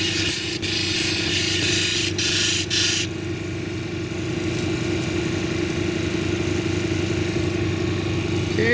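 A lapidary machine grinds a labradorite cabochon on a 600 grit disc, giving a steady, continuous mechanical whir and hum with faint scraping throughout, heard close and alone.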